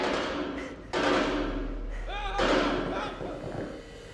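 A gunshot in the horror video game Man of Medan lands as a sudden heavy thud with a booming low tail, then another impact follows, while someone talks over the game audio.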